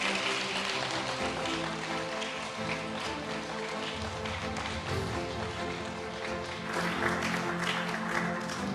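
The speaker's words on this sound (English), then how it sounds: "Please give a big round of applause" Sustained applause from a crowd at a Hong Kong book launch ceremony as Chief Executive John Lee is invited to speak, a dense, even patter of many hands clapping steadily throughout, with a slight swell near the end.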